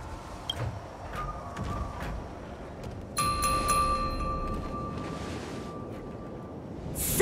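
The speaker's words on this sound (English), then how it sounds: "We could try ringing the harmonic chime." A harmonic chime rung in the video game Honkai Star Rail gives a bright sustained ringing tone that starts partway through and lingers over a steady ambient bed, with a soft earlier ping.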